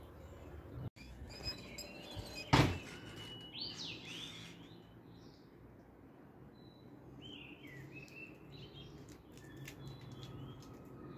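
A sharp flutter of pigeon wings bursts out early as the birds take off, followed by scattered chirps and quiet outdoor ambience.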